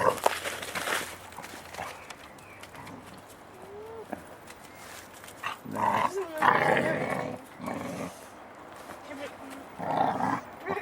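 A dog growls and shuffles about for several seconds. Soft footsteps and movement noises mix in, while people's voices murmur nearby.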